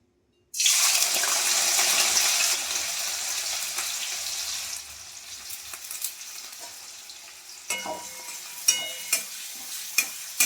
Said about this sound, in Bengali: এখানে আমি কি করব, প্রথমে পেঁয়াজ দিয়ে দেবো